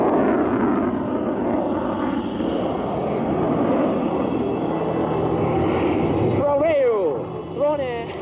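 A Solo Türk jet roars past at an airshow in a steady, loud, broad rumble that fades slightly, while an announcer talks over it near the end.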